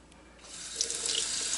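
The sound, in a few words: washing eggs under running tap water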